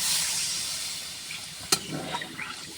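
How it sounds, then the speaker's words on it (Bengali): Water pours in a steady rushing stream into a pot of sautéed taro curry, then tapers off into a few gentle splashes and bubbles. "এই পানিটা ঢেলে দিলাম।"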